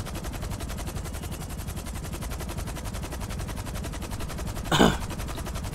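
Rapid automatic gunfire in GTA Online, a steady fast rattle of shots throughout at close range, with one louder burst near the end.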